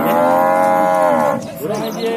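A calf at a cattle fair in Campina Grande, Paraíba, gives one long, loud, close moo that trails off into a rougher lowing tail.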